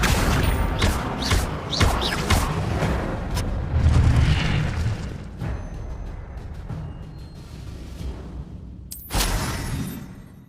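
Magic spells fire in the Hogwarts Legacy video game, a run of loud booming blasts and crackling bursts, some overlapping, then fading, with a sharp final whoosh-crash near the end.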